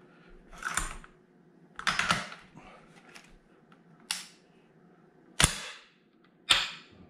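Swedish AG-42B Ljungman rifle being reassembled with its recoil spring, dust cover and safety: a handful of crisp metallic clicks and clacks spaced a second or so apart, close and clear in a quiet room.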